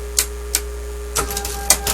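A Monroe CST 8 mechanical calculator driven by a stepper motor at top speed, about 245 RPM, clatters out sharp mechanical clicks and knocks over a steady low motor hum, close and fairly loud.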